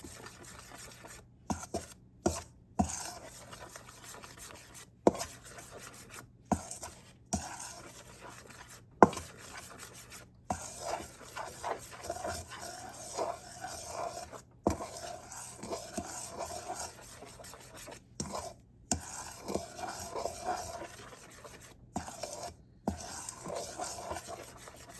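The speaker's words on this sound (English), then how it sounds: "And then stir it all around." A spoon works a teaspoon of salt into a homemade jerk turkey mixture in a bowl, making repeated scraping, rubbing strokes in an uneven rhythm, close and fairly soft, with no talking.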